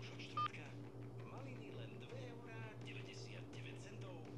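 A single short telephone keypad tone beeps once while pressing three in an automated phone menu, followed by faint background voices and a low steady hum.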